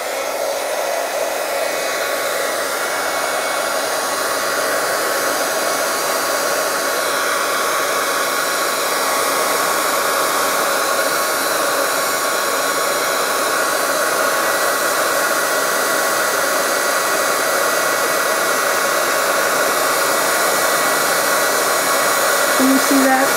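A heat tool blows steadily and loudly to melt embossing powder, a continuous hair-dryer-like whoosh with no break across the whole stretch and no voices.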